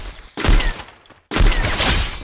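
Gunfire from the Free Fire video game, triggered with a macro button, comes as two dense bursts of rapid shots separated by a short pause, loud, sharp and close, with no talking.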